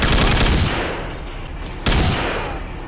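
Gunfire from a rifle in Counter-Strike: Condition Zero Deleted Scenes, with a loud burst of rapid shots that fades, then another sharp shot, all close and without talking.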